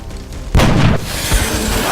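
Sniper rifle shots in the video game XCOM: Enemy Unknown: a single heavy boom with a thick, lingering blast, followed by a softer second thump, loud and close over a steady game background.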